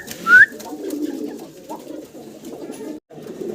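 Pigeons coo in a low, steady murmur at close range, with a brief sharp chirp-like whistle near the start and no talking.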